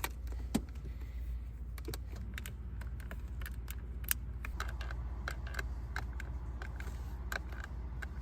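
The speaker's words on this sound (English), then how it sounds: "Listen to that creaking when I push down on these interior panels and these buttons." Interior panels and buttons of a 2018 Mitsubishi Outlander Sport creak and click as they are pressed, giving a string of short, sharp ticks scattered over a low, steady cabin hum.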